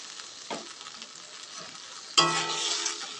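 A spoon stirs a mustard curry in a pan after water is added, with a couple of soft scrapes and then a sudden louder burst of sizzling that carries on to the end.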